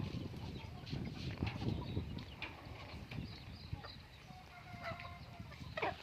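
Free-range country chickens cluck and murmur in a steady, busy chorus while sheltering in the shade on a poultry farm, with occasional sharper calls rising above a low rumble of farm background noise.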